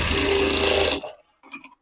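A sewing machine runs steadily while stitching a line along the strip of blouse fabric, then stops abruptly, followed by a few faint handling sounds near the end.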